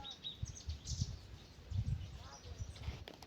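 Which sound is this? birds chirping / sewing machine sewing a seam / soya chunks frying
birds chirping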